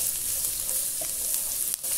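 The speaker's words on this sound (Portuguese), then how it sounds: "vou colocar uma cenoura ralada. Essa cenoura refogar." Grated carrot sautéing in a Philco Redstone PPE04FS electric pan gives a steady close sizzle of frying with faint stirring scrapes, running continuously and alone with no talk.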